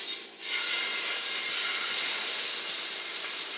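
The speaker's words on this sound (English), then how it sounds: "You can hear the nice sizzle on that." Marinated flank steak sizzles in a hot stainless steel pan with a little oil, a loud, steady, close hiss that holds throughout after a brief dip at the start.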